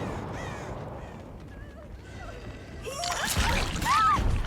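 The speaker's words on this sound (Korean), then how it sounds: "까마귀 뜸." Crows caw in the Dead by Daylight video game, a few scattered calls at first and then a louder burst of cawing with flapping wings as the birds take off nearby, over quiet ambient game noise.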